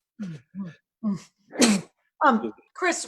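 A single sharp sneeze during a recorded interview conversation, one forceful burst set among short spoken phrases.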